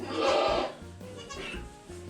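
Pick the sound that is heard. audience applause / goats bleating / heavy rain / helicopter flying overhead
goats bleating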